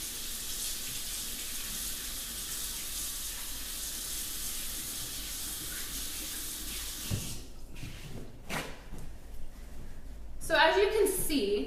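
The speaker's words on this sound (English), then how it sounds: "I'm gonna wash my hands real quick because they get really messy" Running tap water hissing steadily into a sink for handwashing, close and constant for several seconds, then shut off, leaving a few soft splashes and knocks.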